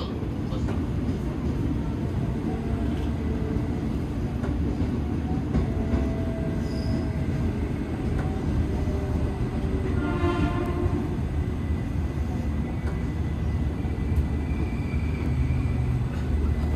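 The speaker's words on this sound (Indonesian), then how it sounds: "ini kereta api Gumarang yang nanti akan kita naikin ke Surabaya" The Gumarang passenger train to Surabaya rumbles steadily nearby, with a brief horn-like tone midway and some faint voices in the background.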